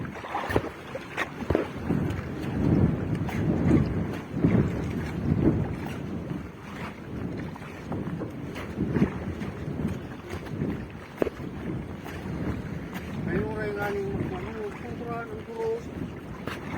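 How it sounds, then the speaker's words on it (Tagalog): Gusty wind buffets the microphone over a steady outdoor rumble at sea while fishing, with occasional thumps and a brief whistling tone. "Hangin lang."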